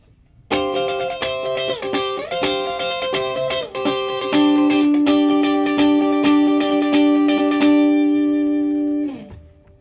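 An electric guitar plays a bright, ringing melody with echoing repeats, stepping through notes and then holding one long sustained tone before stopping abruptly.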